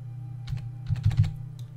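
Computer keyboard keys tapped while steering a spacecraft into docking alignment in Kerbal Space Program, a few quiet clicks and then a quick cluster of presses over a steady low hum.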